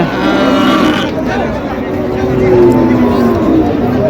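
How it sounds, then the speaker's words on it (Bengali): Cattle at a traditional cow market in Tangail, with a low drawn-out moo rising over a constant loud crowd murmur and nearby voices. "এখানে মিডিয়াম গরু উঠেছে"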